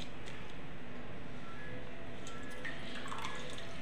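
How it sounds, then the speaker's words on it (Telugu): Washed basmati rice tipped into a pot of water for mutton biryani, giving a steady watery wash and trickling splash that continues close and fairly even throughout, without speech. "వాష్ చేసుకున్న రైస్ వాటర్ లో యాడ్ చేసుకుందాం"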